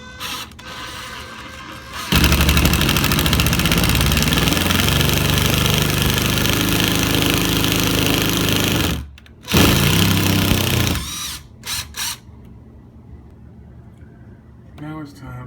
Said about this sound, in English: So now I'm going to start my pilot hole for the second screw.